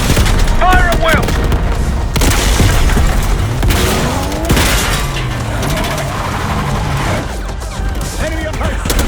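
Heavy gunfire and explosions in a Call of Duty Black Ops 6 campaign assault on a palace gate, loud and continuous with booming blasts, bursts of automatic fire and shouted voices throughout.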